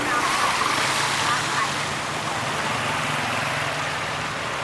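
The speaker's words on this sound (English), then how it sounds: "It's like a waterfall coming in off the road." Floodwater pours off a road into a temple in Thailand like a waterfall, a loud continuous rushing wash close by, with a person talking over it.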